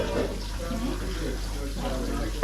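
Water runs steadily from a kitchen tap, a continuous close hiss and splash lasting a couple of seconds, with faint voices in the background.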